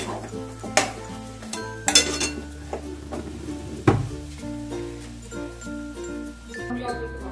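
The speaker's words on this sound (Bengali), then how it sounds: "একটু ধনেপাতা দিয়ে ভালো করে আমি মিশিয়ে নেব।" Lote fish jhuri being stirred with coriander leaves in a pan, spatula scrapes and metallic clinks over a soft sizzle, with a few sharp knocks against the pan and background music and talk underneath.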